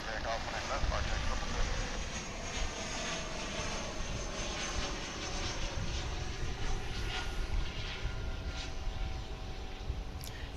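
An American Airlines airliner arriving at DFW International Airport from McAllen, Texas gives a faint, steady engine drone with rumbling low end, while a person talks over the noise.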